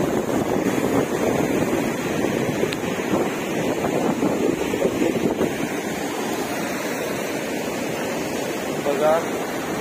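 Water pouring over the full Vandri lake dam makes a broad, continuous rushing roar outdoors, with gusts of wind buffeting the microphone on top.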